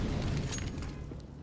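A grenade detonates in a CS:GO match between Heroic and Astralis on the Train map, giving a dense, booming low rumble that holds steady and fades slightly over a second and a half.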